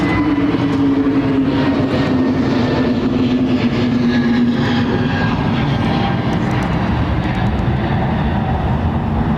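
Airbus A320neo jet with LEAP engines at Heathrow, a loud steady engine rumble with a droning hum that holds throughout, close by and without talk.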